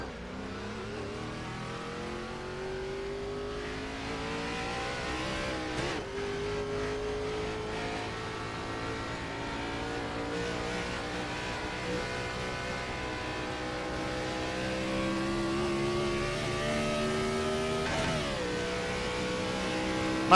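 Gen 4 NASCAR Winston Cup-era stock cars roar at Texas in a racing game, a dense pack of V8 engines revving and rising in pitch together, loud and continuous with a sharp gear-change dip midway.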